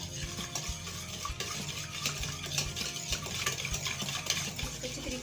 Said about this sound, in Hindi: इसको मैं अच्छे तरीके से मिक्स कर लूँगी।